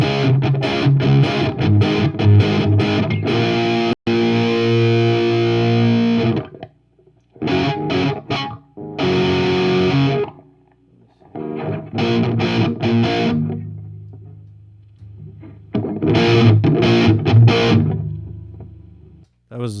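Washburn N4-style electric guitar played through distortion with a solo boost, loud sustained chords and lead phrases in bursts separated by short pauses.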